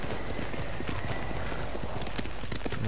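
In Ghost of Tsushima, a horse gallops with a loud, close, steady clatter of hooves and a continuous rushing noise underneath.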